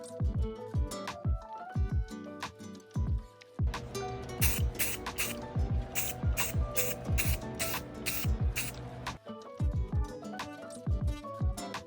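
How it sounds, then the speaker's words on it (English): A can of spray paint hisses in short, uneven bursts, the can rattling and clicking between sprays, with one long sustained spray in the middle. "Got my spray paint."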